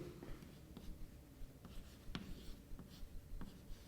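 Chalk or marker strokes on a classroom board as a fraction is written, a series of short scratchy taps and swipes, close and fairly quiet, with no talk.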